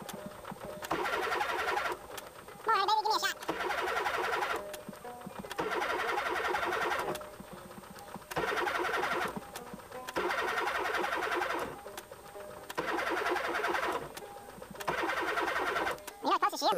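Engine of a 1964 VW Beetle cranking after sitting all winter, with the starter grinding in repeated bursts of about a second, separated by short pauses, and the engine never catching.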